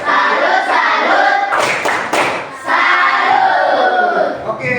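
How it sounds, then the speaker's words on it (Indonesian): An audience in a group setting claps together in a rhythmic 'tepuk salut' pattern, loud and dense. The clapping comes in bursts separated by a short dip, with voices mixed into the crowd noise. "kita berikan aplaus dulu untuk kelompok 1 dengan tepuk salut"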